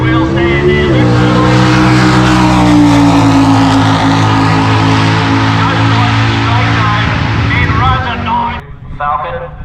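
A VY Commodore drag car launches hard at a drag strip, its loud engine roaring steadily close by for about eight seconds before cutting off, with a voice audible over it.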